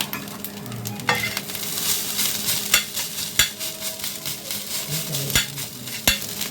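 Beaten egg is stirred into egg fried rice frying in a pan, with a steady sizzle under repeated sharp scrapes and knocks of a spoon against the pan.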